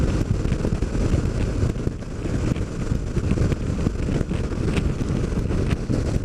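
Steady roaring wind buffeting the microphone while cruising along on a motorcycle on a highway ride, a continuous low rumble of engine and air rushing past with no talking.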